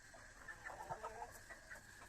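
Hens clucking softly in short, scattered calls, fairly quiet with faint background hiss and no talking.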